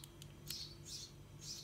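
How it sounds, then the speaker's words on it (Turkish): Small birds, including chicks, chirp faintly in the background with a few short high tweets, heard over a low steady indoor hum. "Bayağı arkadan kuş sesi gelebilir çünkü ya yavruları var da o yüzden."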